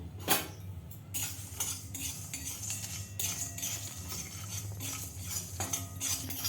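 Whole spices are dry-roasting in a dry pan: cumin, cardamom, star anise, cinnamon, dried chilli and fennel. A utensil stirs and scrapes them with a continuous rattling and clinking. The sound is close, quiet and steady, with no voices.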